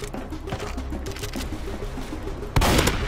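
A shotgun fires in a video game: a rumbling, busy stretch of game noise ends in one loud, close blast near the end.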